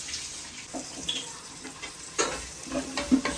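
Onions, green chilies, crushed ginger and garlic sauté in a pan for Kerala-style beef dry fry, a soft steady sizzle with occasional stirring scrapes and clinks, close and fairly quiet.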